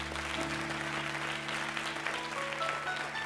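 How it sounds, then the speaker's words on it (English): A church congregation at a Holy Ghost rally claps steadily as they sit down, dense and sustained throughout over a low organ or keyboard drone. "I want you to go down clapping"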